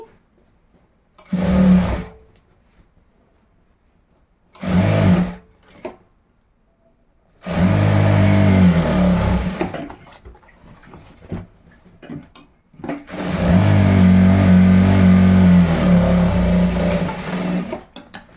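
A sewing machine stitches boys' school uniform shorts in several loud whirring runs, two short bursts followed by two longer ones, with quiet pauses and light handling noises in between.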